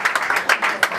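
A short burst of audience applause at an event, brisk clapping from a group with a few sharp individual claps popping out, moderately loud and close.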